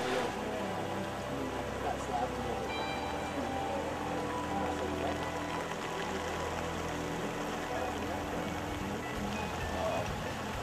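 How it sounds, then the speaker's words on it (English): Steady, dense hiss of heavy rain pouring down continuously in a canyon, with no breaks over the whole stretch. "We have a lot of rain today, bottom line."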